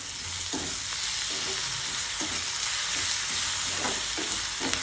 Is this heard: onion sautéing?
yes